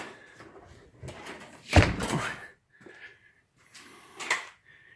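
A door swings open into a garage with a sharp thunk and clattering rattle, followed by softer handling knocks and a second bump, close by in a quiet space.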